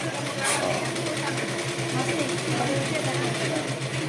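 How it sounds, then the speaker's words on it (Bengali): A sewing machine runs continuously, stitching one side of a long 1.5-inch neckline strip for a churidar, a steady close mechanical whir with talking over it. "এটা আমি লম্বা করে এক সাইড আমি সেলাই করে নিচ্ছি"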